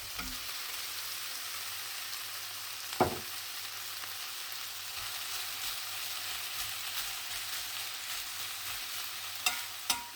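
Cooked rice stirred into tofu, pak choy and vegetables in a frying pan for Thai-style vegan fried rice: a low, even sizzle with an occasional louder scrape of the spatula, close and steady.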